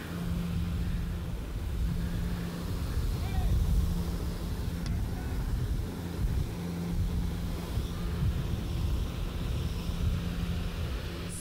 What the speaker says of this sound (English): I believe this is an Oliver tractor.